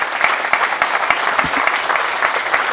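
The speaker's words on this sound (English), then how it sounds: "Give him a big round of applause, guys." Audience clapping steadily at a karate dojo ceremony honoring a martial arts master, a dense, even patter of many hands filling the room for a few seconds.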